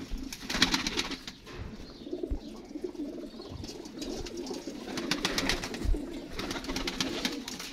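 Flock of Sialkoti pigeons in a loft in Azad Kashmir, soft cooing and chirps with occasional wing flaps, close and moderately loud over outdoor background noise.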